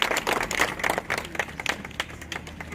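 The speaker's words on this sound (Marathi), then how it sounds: "टाळ्यांचा आवाज" Scattered hand clapping from a small gathering at the ribbon-cutting opening of a reading room and study hall in Shirala, uneven bursts of claps fading and thinning out over nearly three seconds.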